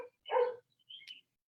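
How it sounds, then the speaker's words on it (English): Dogs bark outdoors on a busy day at home, one short close bark followed by a fainter yip or two, then quiet. "So I'm sorry about the dogs, but that's what you get when you're outside."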